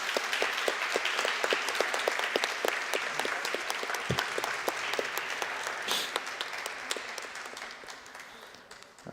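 A church congregation applauds in a dense, continuous burst of clapping that holds steady and then thins out toward the end.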